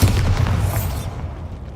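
Bombarda blasting spell in Hogwarts Legacy going off as a single loud, close boom with a crackling burst that decays over about a second, heard alone.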